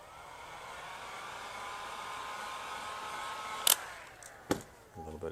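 A heat gun warms vinyl wrap on a Bronco Sasquatch beadlock wheel, producing a steady airy blowing hiss that is close and fairly quiet, with a few sharp clicks and handling knocks near the end.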